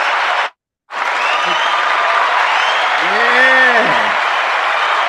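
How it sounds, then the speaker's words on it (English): A studio audience claps and cheers loudly and steadily, with a short cut to silence near the start and a rising whoop over the applause. "And let's cheer for them."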